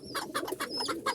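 Pigeons coo in a rhythmic series of soft, throaty calls, about five or six repeated coos close by, with no talking.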